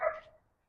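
A single dog bark rings out from a dog running loose in a residential yard, one short sharp bark fading quickly, moderately close with no talk over it.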